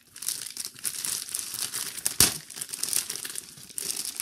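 Sticker packs from a sticker album set are torn open, their wrappers crinkling and crackling steadily and close up for about four seconds, with one sharp louder rip partway through and no talking.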